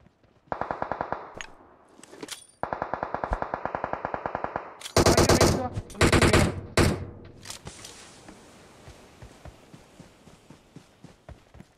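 Rapid automatic gunfire from a shooting video game, loud and close, coming in sustained bursts with short gaps, followed by a few heavier shots and scattered single reports that trail off into quieter clatter.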